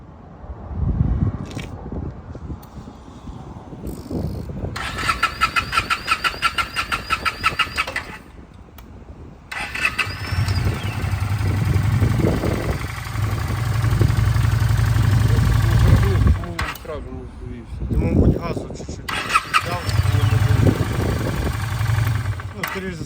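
A Honda Shadow 400 Classic motorcycle with 43,000 km on it cranks and fires up, its engine settling into a steady, close idle with a couple of restarts and revs, while someone talks over it.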